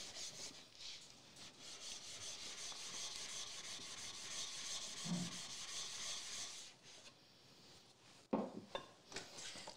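A steel scraper is being sharpened on a 6,000 grit stone, giving a steady close rubbing and scraping that runs for several seconds, then pauses before a few sharper strokes and light knocks.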